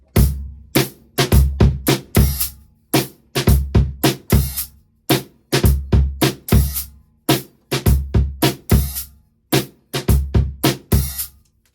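A drum kit plays the main groove of a song, sharp hi-hat strikes layered over punchy low bass drum kicks in tight, syncopated bursts with short gaps between phrases.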